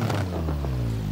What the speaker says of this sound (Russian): давайте заведем двигатель, послушаем, на что он способен без турбинки-то